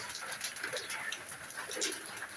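Budapest pigeons coo softly in repeated low murmurs against a steady hiss of background noise, with a few brief bird notes. The birds sound close but faint, and no one is talking.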